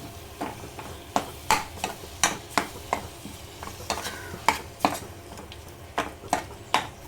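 Repeated sharp scraping and clinking of a spoon sautéing tomato masala in a pan, roughly a dozen strokes at an uneven rhythm over a soft sizzle.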